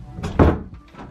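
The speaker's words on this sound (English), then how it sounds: "This is the door." An apartment bedroom door swings and shuts with a single close, solid thunk and a short rattle after it, brief and fairly loud.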